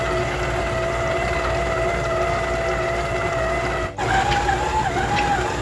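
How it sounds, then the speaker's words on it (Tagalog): A mixer machine kneads cinnamon roll dough with a continuous motor whine and steady hum, briefly dropping out near the end before resuming at a slightly shifted pitch. "At ngayon, gagamitan po natin ito ng mixer machine, okay?"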